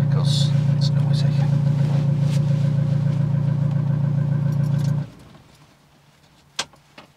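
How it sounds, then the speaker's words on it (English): A van engine idles with a low steady rumble for about five seconds, then shuts off, leaving quiet with a brief knock near the end. "let's switch this engine off because it's noisy"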